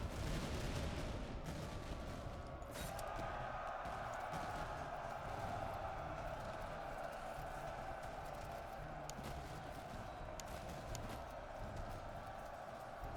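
Musket and artillery volleys in the battle game Master of Command, with a Hanoverian corps: continuous distant crackling gunfire and booming shots over a sustained battlefield roar, layered and dense throughout.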